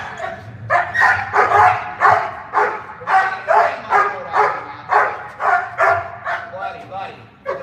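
A dog barks repeatedly during decoy bitework training, a loud run of about a dozen rhythmic, close barks and yips in quick succession.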